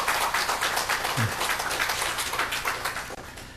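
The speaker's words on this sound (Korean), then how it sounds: "우리 힘찬 박수 한번 하겠습니다." A church congregation at a Korean Presbyterian Sunday service applauds the choir and conductor, a dense, steady wash of clapping that holds loud throughout and tapers slightly at the end.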